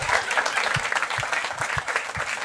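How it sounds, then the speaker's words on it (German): An audience at a live stand-up comedy show applauds, a dense wash of clapping from many hands, steady and fairly close for a couple of seconds without speech. "Applaus für die zwei komischen Mädchen hier vorne."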